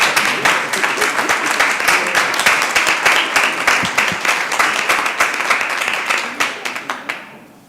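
A city council meeting breaks into a sustained round of applause, dense steady clapping from many hands filling the room before thinning into a few scattered claps at the end.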